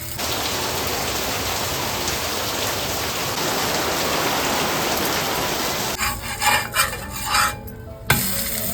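Heavy monsoon rain pours down in Mumbai, a dense steady hiss filling the first six seconds, then giving way to quieter, uneven patter and scattered knocks near the end.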